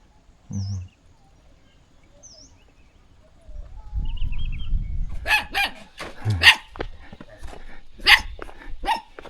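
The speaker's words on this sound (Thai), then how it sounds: "หมาพวกนี้เห่าดีขนาดเลยพี่น้องเลย" Several dogs bark in quick, overlapping bursts, loud and nearby, in a rural mountain village near the Laos–Vietnam border, after a quieter stretch with faint bird calls and a rooster-like cry.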